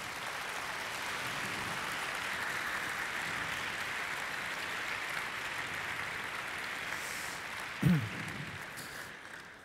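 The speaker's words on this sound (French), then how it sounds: "je propose qu'on l'applaudisse parce que c'est extraordinaire" Sustained audience applause at a conference talk, steady and dense clapping from a crowd that runs throughout, with a brief louder thump near the end.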